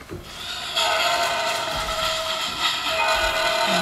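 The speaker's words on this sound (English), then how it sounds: "we got the train." A train sound effect plays from a Things That Go children's soundbook at the press of a button: a loud, steady rumble of rolling rail cars with a horn blast on top.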